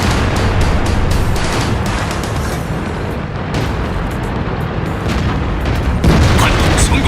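Tank cannon fire in the game World of Tanks, heavy booming shots and rumbling battle noise filling the scene, loud and dense, with someone talking over it.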